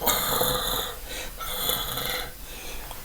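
A voice imitates snoring with two long, raspy inhaled snores separated by a brief pause.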